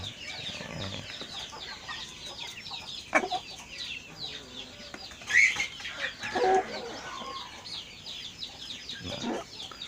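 Fighting-cock chickens cluck and murmur nearby in a busy farm chorus, with occasional louder squawks and a brief flutter of wings.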